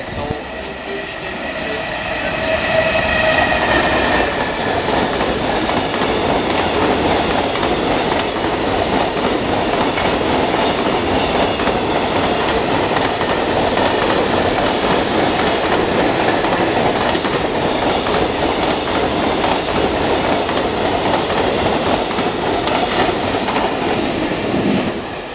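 A Japanese freight train rolls past, a loud continuous rumble with rhythmic clickety-clack of wheels over rail joints and occasional squeal, building in the first seconds and holding steady throughout.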